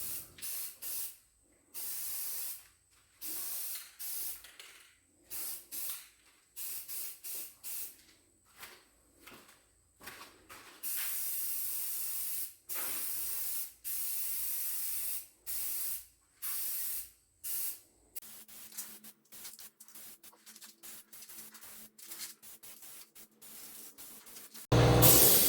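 Spray painting the finish coat on a homemade wooden apple cider press, heard as repeated bursts of aerosol hiss in short on-off sprays, close and fairly loud, with quiet pauses between.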